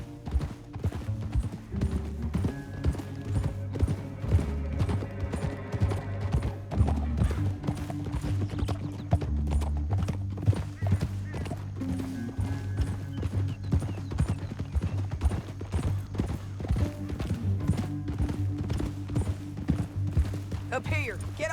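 Horse hooves clip-clopping at a walk in the Western video game Red Dead Redemption 2, a steady rhythmic patter beneath low music and ambient tones, moderately quiet throughout.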